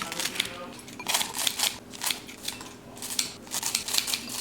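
Slightly dirty scissors snip through crunchy toasted waffles, a series of quick, crisp cuts in an uneven rhythm, fairly quiet and close with no talk.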